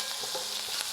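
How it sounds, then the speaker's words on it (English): Cumin seeds, curry leaves, asafoetida and green chilies crackle and sizzle in hot oil, a dense bright frying hiss with small pops throughout a brief, close moment. "now that it's sizzling, let's add some jeera, which is cumin seeds"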